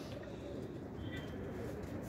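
Pigeons coo steadily in a rooftop loft, their soft, low, rolling calls overlapping in a dense, continuous murmur that stays close and even throughout.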